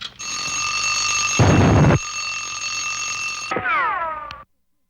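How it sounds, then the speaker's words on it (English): A cartoon electronic alarm clock rings with a steady, loud, high-pitched tone, broken by a burst of noise midway, then a falling warble before it cuts off. "the alarm went off"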